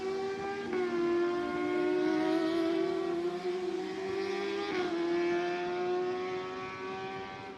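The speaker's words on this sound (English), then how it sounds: "Just take the opportunity to appreciate the engine notes out of some of these cars." F1000 race cars at Road America, a sustained high-revving engine whine that holds steady with brief dips at gear changes, loud and continuous with no talk.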